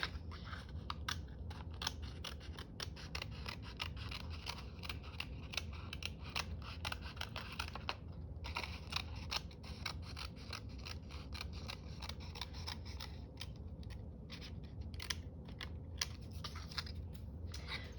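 Scissors snip paper while making a spring craft journal, giving a steady run of short, crisp cuts and rustles close by over an 18-second stretch.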